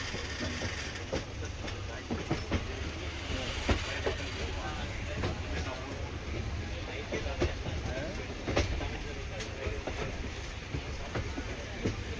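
Passenger express train running on rails in India, a steady rolling rumble with periodic clickety-clack wheel beats over rail joints, heard from on board, continuous and moderately loud throughout.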